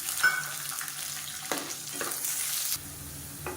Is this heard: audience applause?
no